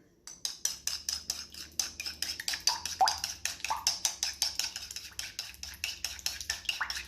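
A habanero chilli omelette mixture being stirred briskly in a bowl, with a steady run of close, rhythmic clinking taps from the utensil against the dish, each stroke sharp and quick.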